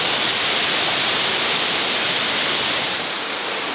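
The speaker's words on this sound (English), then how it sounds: "And there's the waterfall." A waterfall roars in a steady, dense rush of water, loud and close, with no voices.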